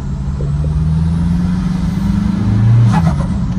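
A Toyota Kijang Innova diesel engine drones steadily while driving, swelling briefly near the end as it revs a little harder, with road and wind noise throughout.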